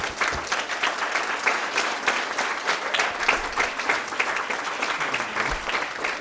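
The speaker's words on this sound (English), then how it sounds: "Let us clap for them." Applause from a student audience at a moot court competition final, a steady wash of many hands clapping at moderate volume, continuous for several seconds with slight swells.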